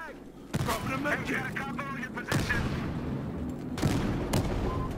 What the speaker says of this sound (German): da einfach mal so auf gut Glück eine Granate hin